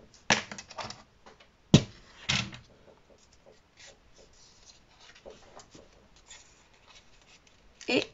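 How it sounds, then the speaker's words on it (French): Paper being creased into folds for the tab of a Halloween-themed paper bag: sharp close scrapes and rubbing strokes in a few bursts, separated by quieter handling noises. "je marque bien les plis"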